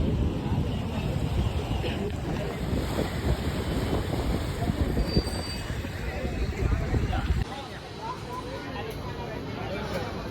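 Sea surf beside a main seafront road in Mumbai, heard as a broad steady wash mixed with wind buffeting and traffic, with people talking over it.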